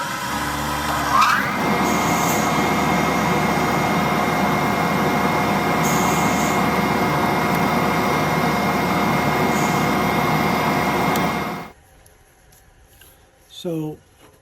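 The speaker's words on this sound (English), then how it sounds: "Now I'm going to use a 1/2 inch router bit" A wood router fitted with a 1/2 inch bit cuts a 2 millimeter deep pass, a loud steady high-pitched whine holding for about eleven seconds before it cuts off and spins down, followed by a brief squeak.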